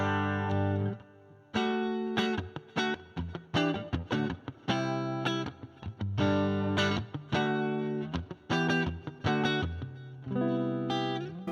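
A Stratocaster plays a clean tone through the Dude, a Dumble-style overdrive pedal, into a Fender Deluxe Reverb amp, with ringing chords and quick picked notes in an uneven rhythm, close and fairly loud, with no talking.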